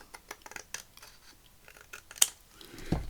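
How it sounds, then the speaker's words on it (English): Scissors trim paper in a quiet craft room, a run of soft, close snips and crisp clicks, followed by a sharper snap and a low thump at the end. "oh, I need to trim off down there"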